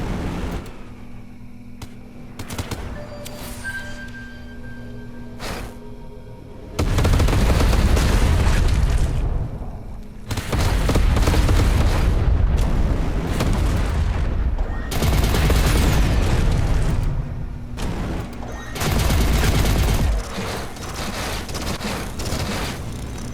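Heavy booming cannon blasts from the space game EverSpace 2 recur in loud bursts over several seconds, with rumbling gunfire-like volleys and quieter gaps between.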